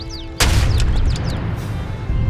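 Cannon fire in the video game Age of Empires 3: one sharp booming blast with a rumbling tail, preceded by brief game sounds and followed by lingering battle noise.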